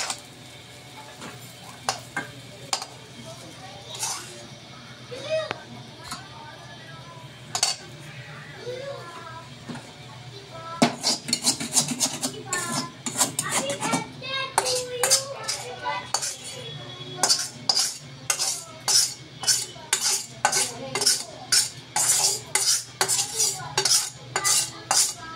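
Homemade chowmein is scooped onto a plate, with metal utensils clinking and scraping against cookware in scattered taps that turn into a dense run of rapid clatter, while someone talks over it.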